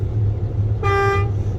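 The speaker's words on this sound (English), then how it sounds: "making sure that my air horn and my electric horn are working properly" Truck horn check during a CDL pre-trip inspection, a single short, loud honk of about half a second over a low idling engine rumble.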